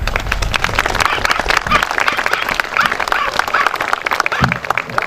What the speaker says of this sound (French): On l'applaudit encore plus fort